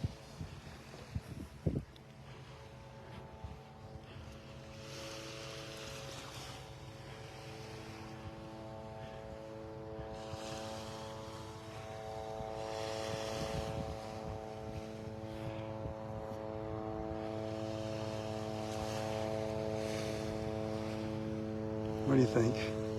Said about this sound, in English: Listening to the helicopter fly by?